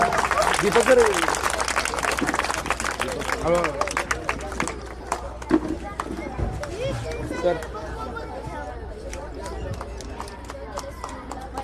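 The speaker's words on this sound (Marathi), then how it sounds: "एकदा जोरदार टाळ्या" A crowd at a district-level skating competition in Solapur bursts into lively clapping that fades after a few seconds into scattered claps, with people chattering throughout.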